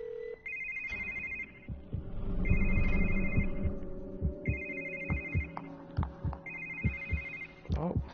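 A telephone rings in The Evil Within: The Assignment, four evenly spaced electronic ring bursts over a dark ambient backdrop with soft thudding heartbeat-like pulses beneath, no talk.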